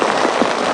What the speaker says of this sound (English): it is pouring with rain